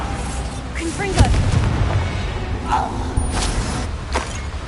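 A Confringo blasting spell going off in Hogwarts Legacy, one sharp booming burst early on over a steady game ambience, with a spoken voice present alongside.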